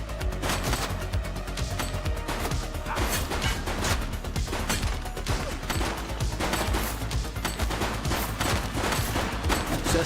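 Gunfire in the police video game The Precinct: dense, rapid volleys of shots crackling continuously like a sustained firefight, loud and close with crashing impacts mixed in.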